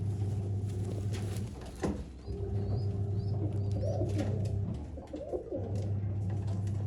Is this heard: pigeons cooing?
yes